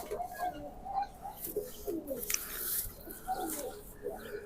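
Pigeons kept by a fancier for flying coo softly in a repeated, throaty pattern close by, over steady background noise and faint voices.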